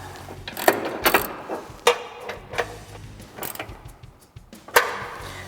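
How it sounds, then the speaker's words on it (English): A hand ratchet with a 15 mm socket tightening bolts on a step bar bracket of a 2021-2023 Ford Bronco, giving several quick bursts of close metallic clicking separated by short pauses, with no talking. "I'm going to take my 15 millimeter on my ratchet. Tighten this one up."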